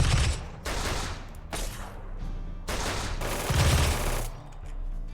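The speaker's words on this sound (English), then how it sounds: "We just take our shots." Bursts of gunfire in the colony-building video game RimWorld, several dense volleys of sharp cracking shots separated by brief gaps, loud and close throughout.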